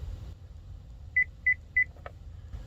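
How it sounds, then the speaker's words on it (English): Three short, evenly spaced electronic beeps from a Hummer H3 dashboard confirm an oil life reset, sounding clearly over a low engine hum, followed by a faint click. "Those beeps confirm that the oil life has been reset."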